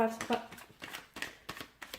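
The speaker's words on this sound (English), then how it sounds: "So let's go ahead, give the cards a shuffle." Tarot cards being shuffled by hand, with soft, rapid riffling and slapping bursts at a steady rhythm, close and fairly quiet, while a person talks over the shuffling.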